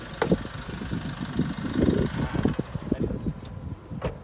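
A car engine idles with a steady low rumble and irregular mechanical ticking, close by, with a few sharper clicks near the end.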